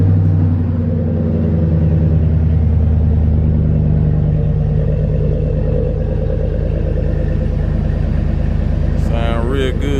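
A GMC truck engine idles in a deep, steady rumble close by, running evenly the whole time, and a voice comes in near the end.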